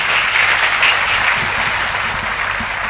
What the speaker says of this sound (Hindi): जानदार शानदार दमदार कवि के लिए जोरदार तालियां नहीं बजी अभी तक